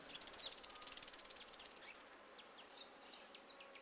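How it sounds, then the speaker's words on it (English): A cartoon cicada buzzes loudly as a rapid, even pulsing drone that fades out after about two seconds, followed by a few faint chirps. "It was the cicada over there!"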